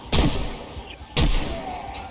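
Two loud, booming gunshots ring out about a second apart from a firearm in the zombie survival video game Project Zomboid, each followed by a short decaying tail.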